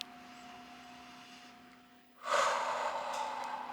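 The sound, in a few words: breathing during a yoga/pilates exercise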